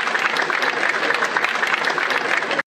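An applause sound effect: a dense burst of crowd clapping, loud and even for the whole stretch before cutting off abruptly at the end, with no voices.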